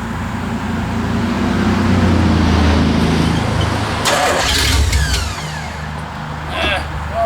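A 1985 Chevy K10 truck engine turns over and fires, then runs with a loud, rough, rumbling roar that eases off toward the end, heard close.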